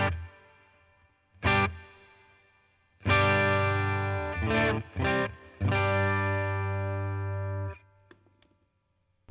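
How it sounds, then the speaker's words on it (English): Clean, sparkly electric guitar from a Roland BC Sparkle Clean tone capsule with subtle reverb and pre-delay, a few struck notes then ringing chords that sustain and fade, moderately quiet and alone. "The reverb on this is very subtle, but I like it. It's got a pre-delay in there."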